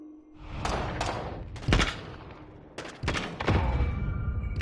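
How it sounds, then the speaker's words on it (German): Gunfire in Call of Duty Modern Warfare during a 2v2 match: a few loud, sharp shots and bursts break out in separate clusters, each with a booming low tail, between quieter stretches of game ambience. "Erster Schuss voll vorbei."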